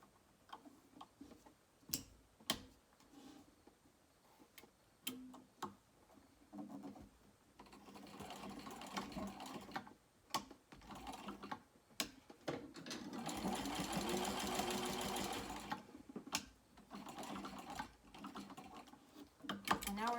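A sewing machine stitches along a zipper tab about 1/8 inch from the edge while making a small crossbody bag: short ticking bursts early on, then a longer steady run of rapid needle clatter near the middle, with brief pauses between stitching passes.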